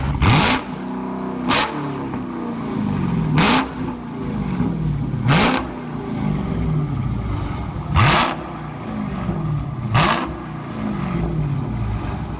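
A 2017 Dodge Charger Scat Pack with a mid-muffler delete is revved repeatedly, with about six sharp throttle blips each followed by a falling, burbling idle, close and fairly loud, with no talking.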